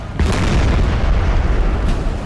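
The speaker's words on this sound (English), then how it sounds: "They managed to fire all three cannons before they were upon them." Cannons fire in Napoleon Total War battle gameplay, loud booming blasts with a sharp report near the start and another toward the end, over a dense continuous rumble of battlefield noise.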